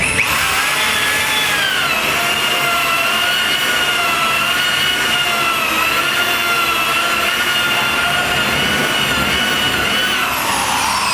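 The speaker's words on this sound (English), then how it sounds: "And you can hear it kind of run into the steel, and it starts getting a little I don't know, hollow sounding when it runs into that steel." A power saw bores through the floor of a cargo container into the steel beneath, a steady loud, close whine with a hollow, grinding edge that holds unbroken throughout, no voices.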